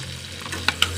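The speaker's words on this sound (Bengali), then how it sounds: "আমি উল্টায় পাল্টায় মাংসটা ভেজে নিলাম, আর এর সঙ্গে দিয়ে দিব পেঁয়াজ, কুচি করা রাখা পেঁয়াজগুলো" Chicken frying with chopped onions in a pan gives a soft, steady sizzle, with two quick scraping stir strokes near the end and no talking.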